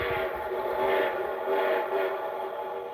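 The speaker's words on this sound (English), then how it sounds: "that was the train." A train passes at moderate distance, a continuous rumbling wash with swelling and fading tones, heard alone without talk.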